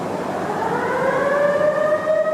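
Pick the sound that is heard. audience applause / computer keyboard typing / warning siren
warning siren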